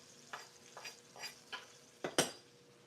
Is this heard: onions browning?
yes